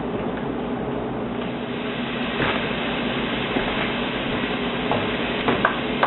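Onions and garlic sauté in a pot with a continuous loud sizzle, and a few clinks and scrapes of stirring sit on top.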